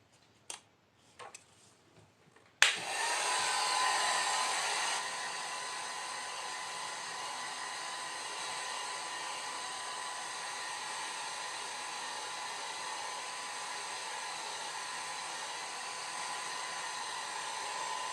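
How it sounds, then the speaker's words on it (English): After a few soft clicks, a blow dryer switches on to dry wet watercolor paint on paper and runs with a steady, even whoosh for the rest of the time. "for quick drying I am using a blow dryer"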